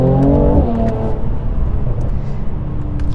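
Mercedes-AMG C43 4MATIC four-wheel-drive car accelerating hard on a cold, wet road, its engine revving loudly and rising in pitch before a gear change, then settling into a steady, throaty rumble.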